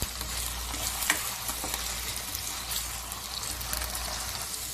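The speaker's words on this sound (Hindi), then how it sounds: "आलू को मीडियम फ्लेम पर हमने 1 मिनट के करीब फ्राई कर लिया है" Potatoes fry over a medium flame in hot oil in a pan, giving a steady, moderately quiet sizzle with occasional crackles and stirring sounds.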